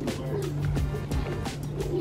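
Pigeons cooing softly amid a steady low hum, with low throaty calls repeating over a continuous background drone.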